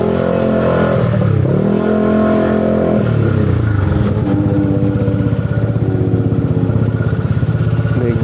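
A big motorcycle passes close by on a road, its engine revving loud with rising and falling pitch, then settling into a steady throbbing idle-like rumble.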